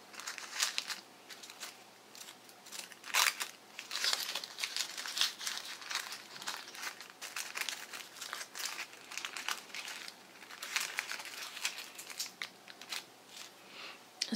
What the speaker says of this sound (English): take your concertina and fold the pieces out into a fan shape